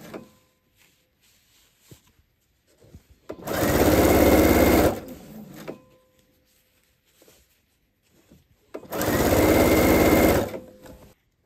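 A sewing machine stitches a fabric Advent calendar in two steady, loud whirring runs of a couple of seconds each, with quiet handling noises between them.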